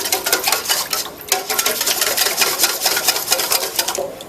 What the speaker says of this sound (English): you're going to take your whisk. And again, you're whisking it all together until it looks very thorough